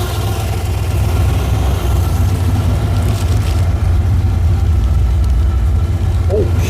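A cammed Chevy 350 swapped into a 1987 Firebird idles at about 1100 rpm with a loud, lumpy, rumbling throb, close and continuous throughout.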